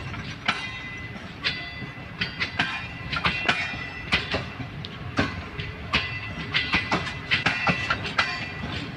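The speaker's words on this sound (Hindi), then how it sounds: "ये ट्रेन भी खाली आई है कराची से" The Karachi Express 15 Up passenger train rolls into a station with loud, rhythmic clickety-clack from its wheels over the rail joints and a steady rumble underneath, heard close by.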